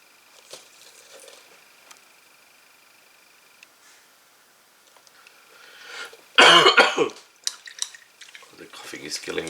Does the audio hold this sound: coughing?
yes